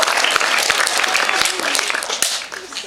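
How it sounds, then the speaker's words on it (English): Audience applause from a comedy crowd welcoming a speaker onto the stage, a dense wash of clapping lasting the whole stretch with a short whoop of crowd voices mixed in. "So let's give it up for Helen Lane, everybody."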